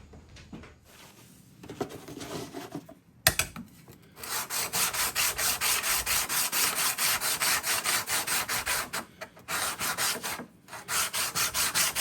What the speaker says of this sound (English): Double-sided blade, but both sides need sharpening.